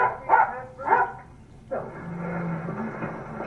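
Dog barks from a hunting scene playing back on a screen, two short bursts near the start followed by a fainter yelp and a steady low hum, with no one talking over it.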